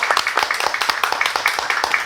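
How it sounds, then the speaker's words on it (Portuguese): Quick, uneven claps from a small group on a Brazilian talk show ring out together, a short burst of scattered applause with a faint voice mixed in. "Uma salva de palmas para Dorian Lima."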